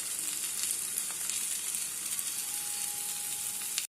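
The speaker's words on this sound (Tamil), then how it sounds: "உருளைக்கிழங்கை நம்ம பேனில் போட்டு அதை பரட்டுவோம்." Mashed potato sautéing in a pan for masala bonda gives a steady, close sizzle that holds evenly for about four seconds before cutting off, with no talking over it.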